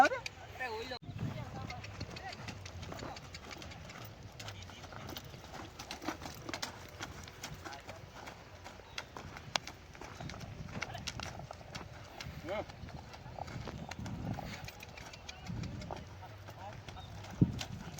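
A horse's hooves clip-clop in a quiet, steady series of light strikes on the ground, with people talking now and then.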